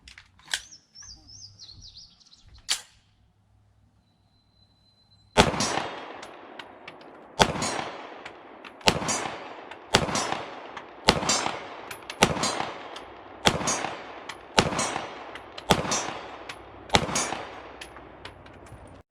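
Outdoor shots from a CZ Shadow 2 pistol at a target about 30 to 35 yards away, about ten sharp, loud reports spaced a second or so apart, after a quiet start with faint birdsong.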